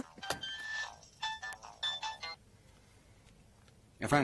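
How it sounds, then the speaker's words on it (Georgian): An electronic phone ringtone plays in short, repeated melodic bursts, then stops, leaving quiet before a brief sound at the end. "ტელეფონი რეკავს"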